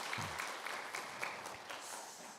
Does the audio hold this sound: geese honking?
no